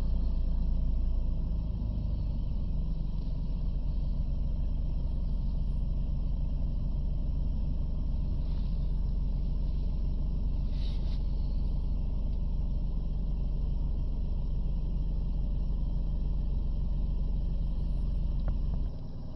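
Diesel engine of a Mitsubishi L200 Triton pickup idling steadily during DPF regeneration, a constant low rumble heard up close and alone for nearly twenty seconds.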